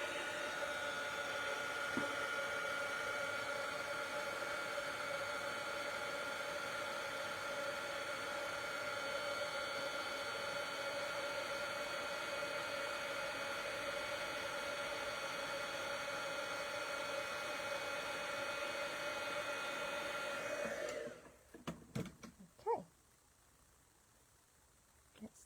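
Heat embossing tool blowing hot air over a Christmas label card, a steady close whooshing hiss that runs for about twenty seconds and then cuts off, followed by a few faint clicks and handling sounds.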